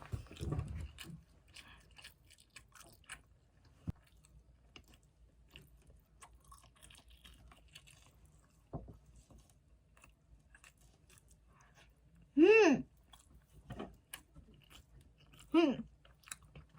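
Chewy convenience-store snack being chewed close to the mic, soft wet bites spread sparsely across a quiet background, with two brief bursts of voice breaking in near the end.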